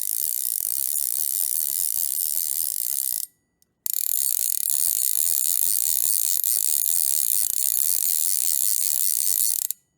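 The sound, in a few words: Orvis Battenkill click pawl fly reel clicking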